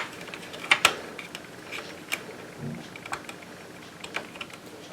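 A Sentro 40-needle knitting machine turns in rounds, giving quiet, irregular mechanical clicks and ratcheting taps close by with no talk.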